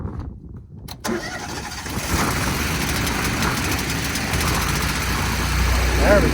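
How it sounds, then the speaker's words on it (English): Gas engine on an engine-driven welder turns over after a brief quiet start and catches about a second in, then runs steadily at a loud, even idle that rises slightly near the end, with a short spoken remark over it. "It's full of gas, it should start now."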